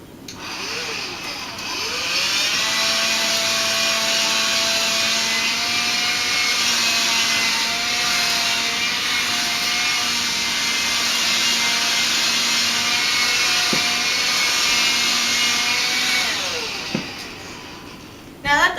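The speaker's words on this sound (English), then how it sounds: "you have to vacuum all the hairs so they don't get into the incision" A vacuum cleaner sucks up clipped dog hair from a shaved patch before surgery, a steady loud whine running almost unbroken for most of the stretch, with faint voices and handling bumps underneath before it cuts off at the end.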